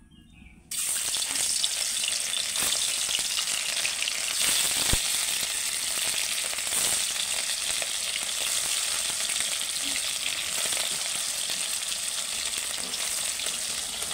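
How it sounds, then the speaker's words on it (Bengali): Snakehead fish pieces are laid into hot oil, sparking a sudden loud sizzle after a quiet start that then holds as a steady, crackling fry up close. "তেলটা তেতে গেলে মাছগুলো এক এক করে ছেড়ে দেবো।"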